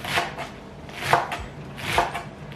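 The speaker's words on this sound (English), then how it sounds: "Just gonna chop off the ends." A knife chops the ends off green onions on a board, three or four distinct cutting knocks spaced unevenly, close and clear with no talking.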